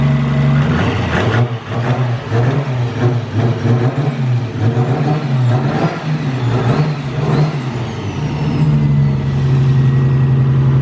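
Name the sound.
Nissan Skyline sedan engine revving on ECU Master tune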